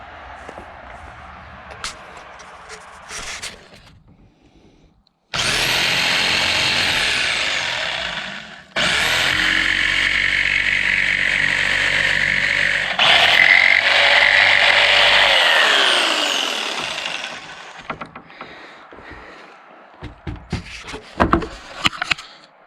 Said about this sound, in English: instead of using a little coping saw to get all these angles, I'll use my jigsaw